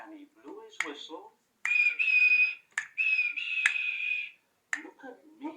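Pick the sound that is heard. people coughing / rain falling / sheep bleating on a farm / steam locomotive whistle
steam locomotive whistle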